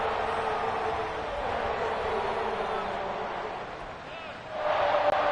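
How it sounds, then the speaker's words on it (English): Stadium crowd noise from a Chiefs home game in Kansas City in Madden 24, a broad steady roar of massed voices in a chanting swell, loud and sustained throughout. "Crowd of white people making Native American sounds here in Kansas City."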